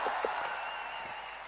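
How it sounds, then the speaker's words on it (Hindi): A ceremony audience honoring Olympic athletes claps in a brief, fairly faint burst of applause heard at a distance, with a few louder claps at the start before it tapers off. "जोरदार तालियां।"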